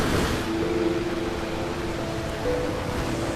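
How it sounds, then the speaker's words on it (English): Rushing ocean waves roll in as a steady, even wash of surf that stays loud and unbroken from start to end, with no voices. "The rushing waves calm our body and soul."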